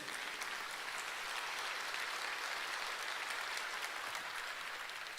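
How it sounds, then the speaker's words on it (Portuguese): A congregation applauds during a church sermon, dense steady clapping at an even level for several seconds, heard somewhat from a distance. "E você pode aplaudir o nome de Jesus"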